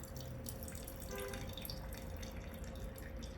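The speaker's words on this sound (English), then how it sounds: "And it's time to pour the wine." Wine poured from a trigger-operated dispenser during a live California wine tasting, a steady close liquid trickle and splash running through the whole moment with no talk over it.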